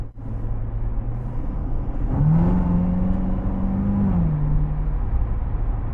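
A Corvette Z06 C7 accelerates hard from inside the cabin, a loud engine drone that climbs in pitch midway, holds, then drops back as the revs settle.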